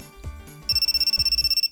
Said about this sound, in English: The phone rang right after I took her hand.